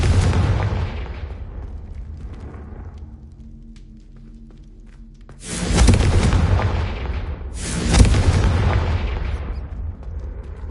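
Two loud, close Confringo spell explosions in Hogwarts Legacy, each a sudden booming burst with a long decaying rumble, heard over a low game ambience.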